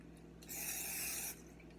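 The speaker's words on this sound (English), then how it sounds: "Spray the bowl" Cooking oil sprayed into a bowl in a kitchen, a single short hiss lasting under a second over a low, steady background hum.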